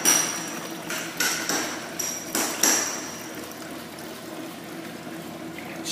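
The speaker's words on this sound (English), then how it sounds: "Right now we are in spin mode." A Kenmore washing machine in spin mode spins out the remaining water, giving a steady whirring hiss with a few sharp knocks and splashy bursts in the first seconds, then a smoother, quieter wash of noise.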